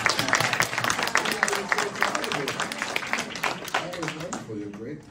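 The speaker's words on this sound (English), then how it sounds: "Round of applause for each other." A convention panel audience applauds with dense, rapid clapping while voices talk and cheer over it; the clapping gradually thins toward the end.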